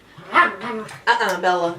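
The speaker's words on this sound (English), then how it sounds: "Pardon my dogs, they are in here." Dogs bark and yip indoors in a home, giving a few short, close, voiced bursts, while a person speaks briefly.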